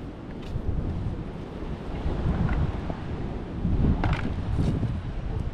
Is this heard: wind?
yes